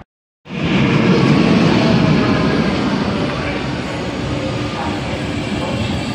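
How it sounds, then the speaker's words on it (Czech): A Czech passenger train pulls away from a station on the line toward Plzeň, with a loud, steady rumble of wheels and carriages that starts abruptly and holds for several seconds. "Odjíždí osobní vlak."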